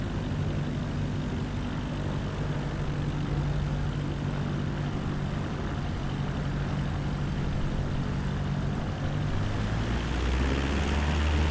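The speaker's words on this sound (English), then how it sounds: "We're taking off from runway 21." An aircraft taking off from runway 21 in Microsoft Flight Simulator 2024, with a steady, loud engine and propeller drone that holds throughout and deepens toward the end.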